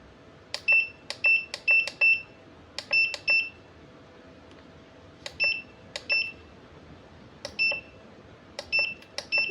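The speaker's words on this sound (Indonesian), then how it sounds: "Nggak keluar ya teman-teman ya. Cuman bunyi tatut-tatut aja nih." Faulty Godox DE300 studio flash beeping without firing: quick clusters of sharp electronic double-beeps repeating in irregular bursts, close and clear over a quiet room hiss.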